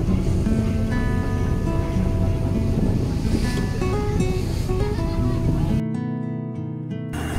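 Waves and rushing water sound steadily around a ship out at sea, a loud continuous wash with wind noise, and a tonal background that cuts out sharply near the end.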